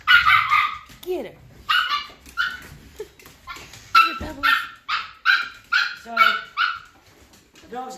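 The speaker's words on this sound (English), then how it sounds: "Dog's gonna go crazy now." Several dogs bark excitedly indoors in quick repeated bursts, with yips and whimpers mixed in, loud and close, and people talk between the barks.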